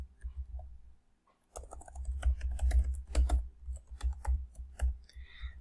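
Rapid keystrokes on a computer keyboard as a user ID and password are entered, starting after a brief pause and continuing in quick, uneven bursts of close clicks with no talking.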